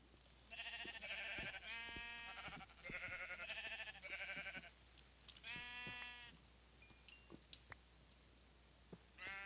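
Video game sheep bleat in several clear, wavering calls, some overlapping, with quiet gaps and faint clicks between, fairly close and without talk.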